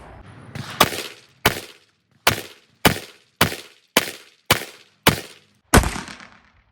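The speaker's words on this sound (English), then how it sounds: "So off double action, we're gonna release the safety and shoot." A Beretta 80x pistol fires in double action, with nine sharp shots in a steady, evenly spaced string, each a loud close crack followed by a short decay.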